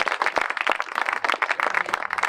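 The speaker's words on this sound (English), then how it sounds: "Let's give Mayor Bibb a big round of applause." Crowd applause for Cleveland Mayor Justin Bibb at an outdoor trail groundbreaking, a dense steady patter of many hands clapping close by for a couple of seconds with no talk.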